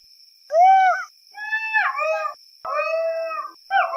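Jackals howl at night in a series of rising and falling wailing calls, four close bursts with short gaps, over a thin constant insect whine in the background.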